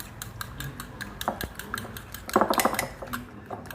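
Eggs being mixed with green chillies in a bowl for a Spanish omelette: quiet rhythmic clinks and scrapes of a utensil against the bowl, with a brief louder burst of clattering near the end.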